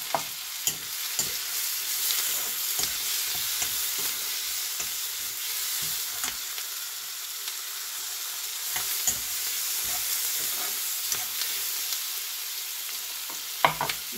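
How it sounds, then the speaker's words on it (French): Tomatoes softening with salt in a pan for a sweet-and-savory tomato chutney, giving a steady close sizzle with scattered stirring scrapes and clicks throughout, no voices. "je vais attendrir mes tomates en mettant un peu de sel"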